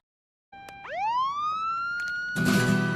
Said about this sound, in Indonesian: Detektif Ma menyalakan sirine polisi dari teleponnya.